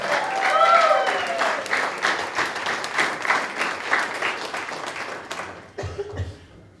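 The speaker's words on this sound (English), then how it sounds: "So let's give Ben Allen and his parents a round of applause." A room full of people at a political event applauding steadily for several seconds, with a cough near the start, before the clapping fades and a few quiet sounds remain.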